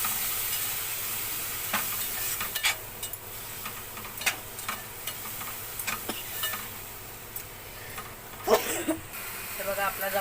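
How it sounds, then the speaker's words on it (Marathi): Soaked dried shrimp (jawla) being sautéed in roasted masala for a spicy jackfruit seed curry: a soft, steady sizzle broken by irregular scraping stirs, close and moderately quiet. "आता हे भिजवलेला जवला टाकायचा पहिला. त्याला पण चांगला परतवून घ्यायचा."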